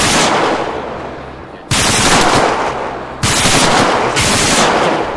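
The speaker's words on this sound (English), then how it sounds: "Take the shot with a machine gun with a big sniper scope" Machine gun with a large sniper scope firing in ArmA 3, very loud sustained bursts of rapid automatic shots in three long strings, close up, with no talking.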